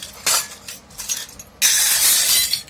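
Glass spice containers are handled in a kitchen, giving several close, bright clinks and rattles, with a longer scraping clatter near the end.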